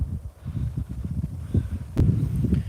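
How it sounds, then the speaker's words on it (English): Gusty wind buffets the microphone outdoors on a fishing bank, a low continuous rumble that swells and surges, with a brief sharp click near the end. "I don't know if you guys can hear the wind, but it's fairly windy today"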